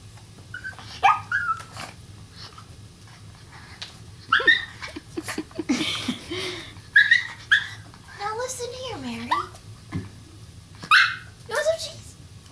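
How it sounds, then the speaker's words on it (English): A small pet dog whimpers and lets out short yips and barks at home, the sounds coming in bursts between a woman's coaxing speech over a low steady hum. "That's my good little dog."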